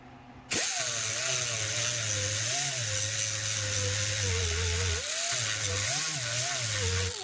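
An angle grinder with a 36 grit disc grinds down a power saw handle, starting abruptly and then running as a loud, close, continuous whine whose pitch wavers under load, with a brief dip partway through.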